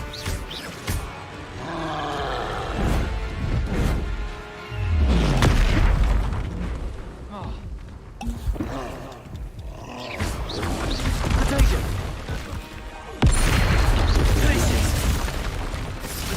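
Bombarda blasting spell explosions in Hogwarts Legacy, several loud booming blasts with rumbling roars and scattered game effects, mixed with a voice calling out.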